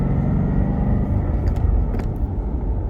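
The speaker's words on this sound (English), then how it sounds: "So that's obviously how it sounds with the quiet mode." Steady low engine rumble of a Mustang GT with an Armytrix exhaust in quiet mode, heard from inside the cabin as it accelerates, subdued and even, with a couple of faint clicks.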